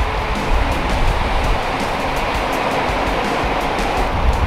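Ocean surf roars steadily and loudly throughout while someone surfs a fast wave, a continuous broadband wash of breaking water with no voices.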